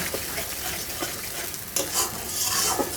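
A masala of tomato sauce being stir-fried for pointed gourd korma, sizzling loudly and steadily while a spatula scrapes and stirs through it, close up with no voices.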